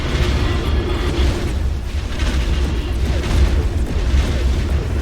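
A defense platform firing in the space game X4 Foundations, heard as a steady rumble of deep booming blasts that keeps going loud throughout with no talk over it.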